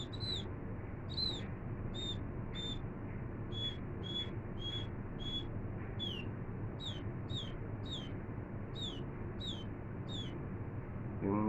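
A human voice imitates the call of the maya bird, the scaly-breasted munia of rice paddies, giving a series of short high chirping whistles, evenly spaced and repeated over a low steady background hum.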